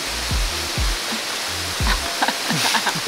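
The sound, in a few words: waterfall in Bogor, West Java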